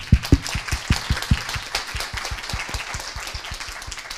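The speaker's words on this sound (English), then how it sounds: "So maybe one more hand of applause for them." An audience at a final conference applauds the panelists, starting with several loud, close, distinct claps that settle into a lighter, steady patter of clapping.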